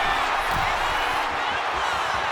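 Dense, steady crowd roar fills a WWE 2K25 wrestling arena, a capacity audience on its feet cheering loudly and continuously with whoops mixed in, no single voice standing out.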